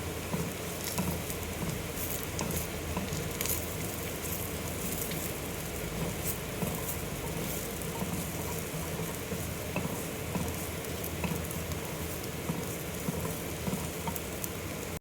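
Curry in a pan with Kashmiri chili powder being stirred in, a dense, even sizzling patter that holds steady throughout with no talk.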